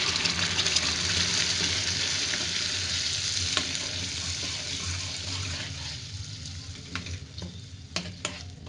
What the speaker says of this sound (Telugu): అల్లం వెల్లుల్లిపాయ వేగిన తర్వాత దీనిలో ఆనియన్స్ టమాటో మిక్సీ చేసి చేసిన పేస్ట్ వేసుకోవాలి